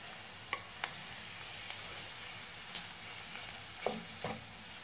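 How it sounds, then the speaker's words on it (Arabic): Minced meat kefta frying with browned onions in a pan, a soft constant sizzle with occasional stirring clicks and scrapes, fairly faint and close, with no talking. "من بعد ما تشحرات البصله ديالنا، نضيفوا عليها الكفته ديال لادانت"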